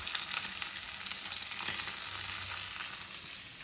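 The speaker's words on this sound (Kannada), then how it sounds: "ನೋಡಿ ಎಷ್ಟು ಚೆನ್ನಾಗಾಗ್ತಿದೆ ಫಿಶ್ ಫ್ರೈ" Bangude mackerel fish fries on a tawa pan with an even, moderately loud sizzle and faint crackles, steady throughout with no voices.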